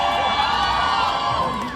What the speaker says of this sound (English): Give a big round of applause to that,